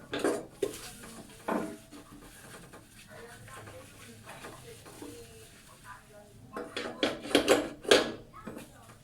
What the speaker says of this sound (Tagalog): lidinisin ko lang muna itong kalan